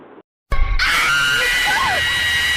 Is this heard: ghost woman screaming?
yes